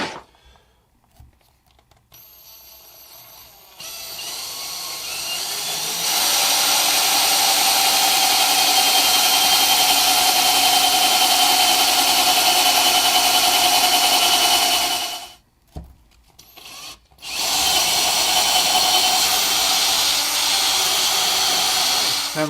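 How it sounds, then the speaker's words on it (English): A power drill bores through the painted body of a budget Kurt Cobain-style Mustang guitar, with masking tape around the holes. The loud, sustained whine runs in two long bursts split by a brief pause. "I put a bit of masking tape around the holes just to stop the paint splitting whilst I'm drilling through."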